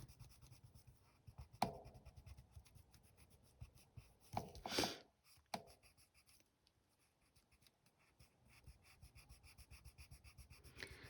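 Quiet scratching and rubbing strokes of a watercolour pencil blending on paper, with soft rhythmic scribbling and a brief louder rustle partway through.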